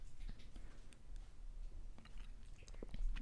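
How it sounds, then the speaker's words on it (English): A pet chewing and smacking on something close by, producing soft, irregular wet clicks and smacks over quiet background hiss. "he's chewing/smacking on something."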